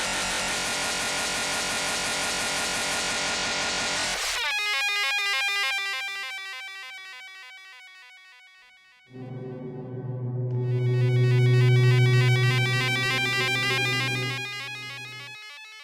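Randomised LFO modulation sweeps through a NoiseSpace AUv3 synthesizer patch, shifting from a dense bright noisy texture into sparse high tones, then a louder droning low-pitched layer that swells and fades, with no voice present.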